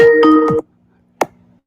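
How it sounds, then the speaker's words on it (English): A telephone rings with an incoming call during a radio talk show: a bright electronic ringtone burst lasting about half a second, a moment of silence, then one short sharp chime, loud and close, with no voices. "looks like we have a phone call"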